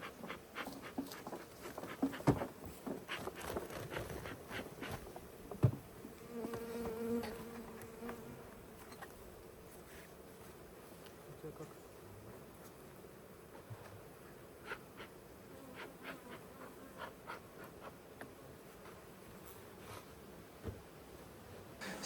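Bees hum and buzz continuously around a forest beehive, a low close drone with occasional louder passes near the hive.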